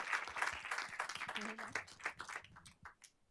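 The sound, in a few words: audience clapping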